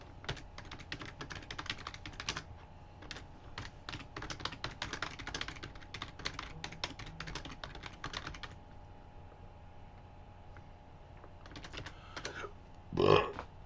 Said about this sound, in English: That was me with the burping.